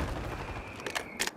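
Call of Duty gunfire: two short, faint shots crack out near the end over a quiet, steady background hum, distant rather than close.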